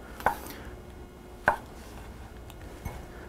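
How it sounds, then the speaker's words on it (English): Mushrooms being sliced with a knife on a board, three or four separate chops spaced about a second apart, close and crisp over quiet room tone, with no voices. "So I've got a lot of mushrooms here. Just gonna slice these up."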